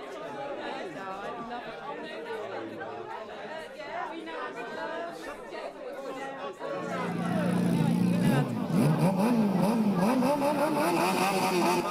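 Motorbike engines in a BGMI PUBG race, heard first under excited chatter and then rising into a louder, steady revving drone as the bikes speed up.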